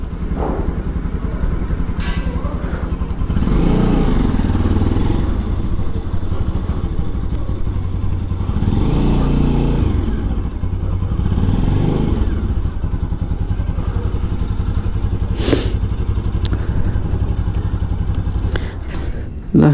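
Motorcycle engine running close by, a loud steady idle with bursts of revving and some mechanical clatter, with sharp knocks and brief talk in between.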